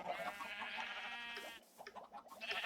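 Sheep bleating at a sheep farm in a video game, several overlapping wavering bleats from a flock, moderately close but quiet, with short gaps between calls and no talking.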